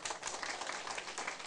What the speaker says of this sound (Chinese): 你免拍手呀